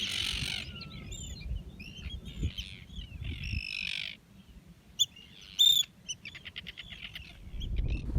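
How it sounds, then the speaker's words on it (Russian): Nesting seabirds calling on Drangey island off northern Iceland: scattered chirps, squawks and crow-like caws, some near and sharp, others faint, over a low rumble of wind. "Потому что тут гнездятся птички сейчас."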